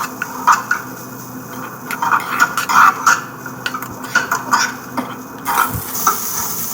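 Cooked rice being mixed with salted coriander paste in a pan: close, irregular scraping and clinking of a spoon against the pan over a faint sizzle, with a few sharper knocks near the end.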